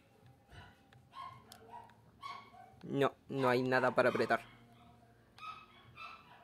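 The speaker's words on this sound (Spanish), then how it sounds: "Y justo se ponen a ladrar todos los perros." Several dogs bark and yip in the distance, short bursts scattered across the clip with a louder cluster in the middle, mixed with someone speaking over them.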